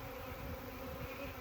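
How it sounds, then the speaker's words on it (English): Bees trapped inside a feeder buzz in a close, continuous drone that stays steady and fairly loud for the brief moment, with no talk over it. "there's a couple bees in there."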